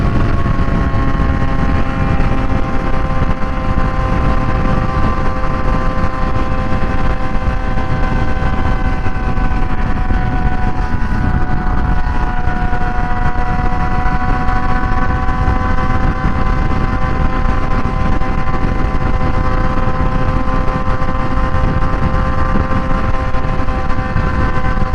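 A small-displacement motorcycle on 15/49 sprockets cruises the interstate at about 80 mph and 8,600 RPM, its engine a loud, constant high-pitched drone under heavy wind rush for the whole stretch.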